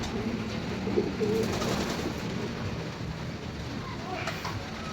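Pigeons cooing inside a walk-in cage, soft repeated coos close by amid a steady background hum, with people talking faintly.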